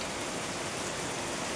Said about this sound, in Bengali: এখন দেখো কি সুন্দর বৃষ্টি হচ্ছে।